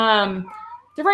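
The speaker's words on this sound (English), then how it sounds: "I'm so sorry, my cat." A pet cat gives a close, clear meow that slides downward, followed by a brief second rising call.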